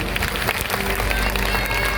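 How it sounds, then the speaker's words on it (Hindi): Audience applause at a devotional Krishna–Sudama story gathering in a Lucknow pandal, a dense, steady wash of clapping from a large seated crowd, continuous throughout with a voice faintly underneath. "कम से कम उनके लिए तालियां तो बजा के बोलो"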